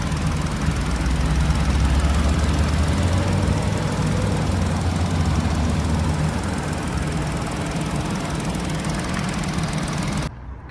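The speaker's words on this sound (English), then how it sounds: "This is the little baby engine." The small engine of a 2022 Kia Picanto idles steadily nearby with a low, even rumble and rattle, running continuously before abruptly quieting at the end.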